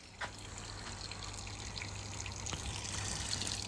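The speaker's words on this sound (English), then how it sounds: "Nice hot water." Hot water runs into a Hoover 1400 washing machine at the start of a permanent press cycle, a low-pressure steady trickling and pouring with a faint hum underneath, continuous and moderately quiet.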